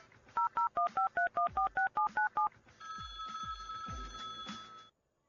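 Telephone being dialed: a rapid sequence of about a dozen evenly spaced touch-tone beeps, then a steady electronic ring tone that holds for a couple of seconds before cutting off, with no talking.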